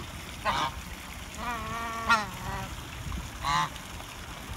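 Several loud, nasal honks from geese or ducks at a zoo, spaced apart in short bursts, close by against a background of outdoor noise.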